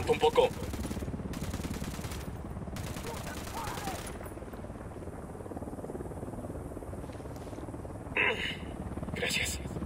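Gunfire bursts and a helicopter in Tom Clancy's Ghost Recon Wildlands during a fuel-delivery mission, with rapid shots in several clusters over a steady rotor-like drone, voices talking through parts of it.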